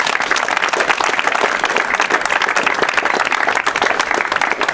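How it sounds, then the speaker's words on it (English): An audience at a tennis complex dedication ceremony applauds warmly, a thick, continuous patter of many hands clapping at an even level for several seconds, with no talk over it. "Let's give them a round of applause."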